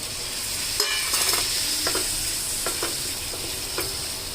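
Tomatoes dropped into a sizzling prawn masala with white gongura in a pan, a steady hiss of frying with a few sharp stirring clinks and scrapes, close, with no talk.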